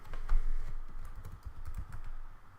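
Quick, close keystrokes on a computer keyboard at a Linux machine, a brief run of soft clicks with a low muffled thump under them and no voice.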